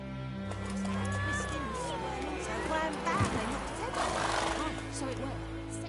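Roach, a horse in The Witcher 3 on PS4, gives a wavering neigh with snorts and hoof sounds over steady game ambience, while a voice speaks.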